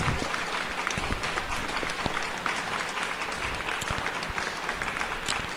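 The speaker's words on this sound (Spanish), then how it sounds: "Dale fuerte el aplauso a Dios." A church congregation claps loudly and steadily, a dense, sustained roar of many hands with sharp individual claps cutting through, heard up close throughout.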